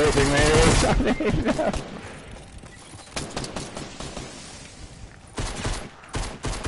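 Rapid pistol shots in a Fortnite duos match, bursts of clustered game gunfire, loud at the start and returning in scattered volleys, with excited players talking over it.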